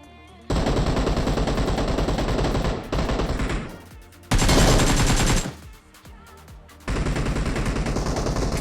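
Gunfire in a PUBG Mobile squad fight, with long loud bursts of rapid automatic fire separated by short pauses and single shots, close and dominant, no talking.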